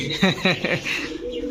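Pigeons at a pigeon sale give a few short, close throaty coos in quick succession, then fade into a low, steady background murmur.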